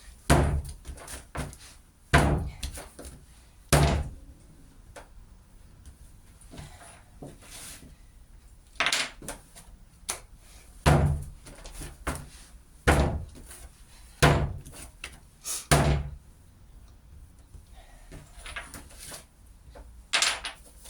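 Heavy slab of porcelain clay slammed hard onto a surface again and again while being wedged, a series of loud, close, dull thuds at irregular intervals, about a dozen in all, with no talking.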